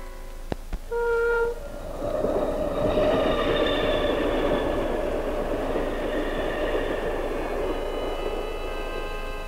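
A train passes through the Powiśle district of Warsaw, starting with a brief horn-like tone and sharp clicks. The rolling rumble then builds into a steady, loud roar of wheels with a faint squeal, and no one speaks.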